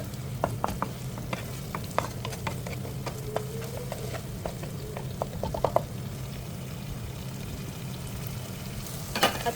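Onion, tomato, garlic and ginger fry in a pan for cabbage rolls while a spoon stirs steadily, with soft scraping taps over a low, constant sizzle and no voices.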